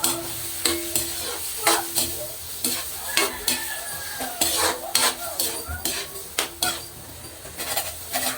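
Squid for adobong pusit sizzles in a hot pan, a steady frying hiss broken by rhythmic scraping and clinking of a spatula stirring against the metal, close and fairly quiet with no talk.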